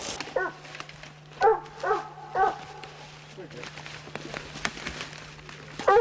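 Hunting dogs bay and bark at a raccoon up a tree during a competition hunt at night, with several bursts sounding at a distance over a steady hum and faint outdoor noise.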